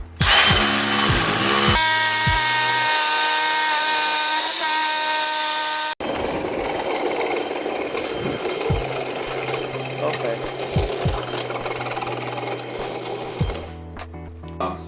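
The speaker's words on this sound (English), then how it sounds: "we're going to drill right through the middle of the hole. Hammer drill." A hammer drill grinds loudly and continuously through a house wall for a dryer vent, first with a high whine, then a rougher rattling bore through material, with occasional low thumps near the end.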